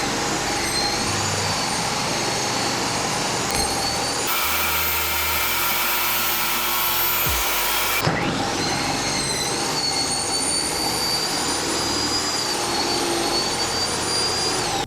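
Table saw cutting hardwood flooring pieces for a glue-down floor, a loud steady whine running throughout, dropping in pitch under load mid-cut and then rising again, with no voices.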